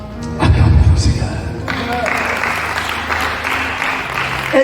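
Congregation in a church bursting into loud applause and cheering, dense clapping that starts with a heavy thump and holds steady for several seconds, with voices calling out through it.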